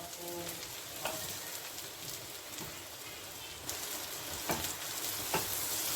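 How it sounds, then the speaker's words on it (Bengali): Onion and bitter gourd frying together in a pan give a steady crackling sizzle with occasional sharper pops, close and moderately loud, with no voices. "পেঁয়াজটাও ভাজা হয়ে যাচ্ছে, আমার সঙ্গে করলাটাও ভাজা হয়ে যাচ্ছে।"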